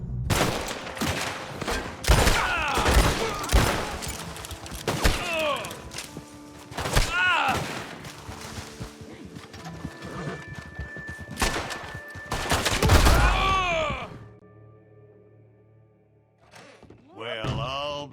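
Gunfight in Red Dead Redemption 2 during a bounty hunt: a barrage of loud gunshots and heavy thuds with ringing echoes over game music and voices, easing off near the end.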